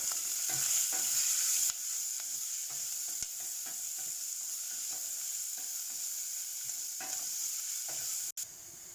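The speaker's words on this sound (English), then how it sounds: "We'll add in the onion now. And we'll just let the onion cook." Onion fries in a pan for mixed dal, a constant bright hiss of sizzling oil with faint intermittent stirring taps, close and steady with no speech.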